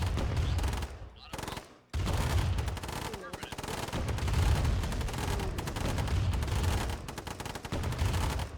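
Soldiers firing weapons in the Command and Conquer Remastered strategy game, a steady run of loud overlapping gunfire bursts through most of the stretch, broken by a brief quieter gap near the start.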